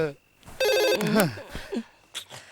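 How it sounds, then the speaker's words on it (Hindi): A telephone rings with a short burst of electronic trilling tones in a Bollywood film scene, briefly overlapping with people talking. "किसका फोन है?"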